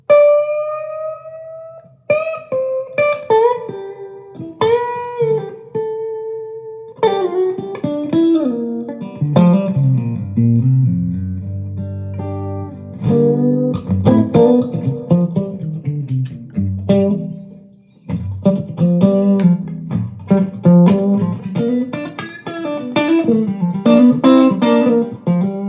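An electric guitar played through effects, with clean picked notes and bends, then chordal runs, loud and close with no talking.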